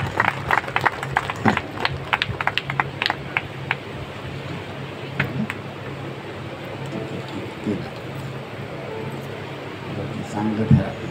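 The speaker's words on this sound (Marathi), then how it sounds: "अजून एकदा टाळ्या वाजवायचं," Wedding guests clap together in a burst of quick, dense claps near the start, fading into a murmur of crowd noise and voices for the rest.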